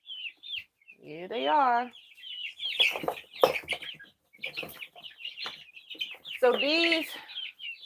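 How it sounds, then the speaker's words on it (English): Cream Legbar chickens clucking and squawking nearby in a backyard coop, loud bursts of rising calls with softer clucks between, while a person talks. "this is one of my cream leg bars."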